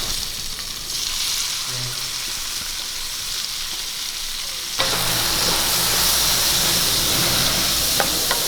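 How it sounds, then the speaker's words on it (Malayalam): Crushed shallots and curry leaves sauté in hot oil for a chicken fry, giving a steady sizzle that jumps to a louder, fuller frying hiss partway through as more shallots hit the pan, with no talking. "ഈ എണ്ണയ്ക്കകത്ത് തന്നെ നമുക്ക് കുറച്ച് ചുവന്നുള്ളി ചതച്ചത് വഴറ്റിയെടുക്കാം"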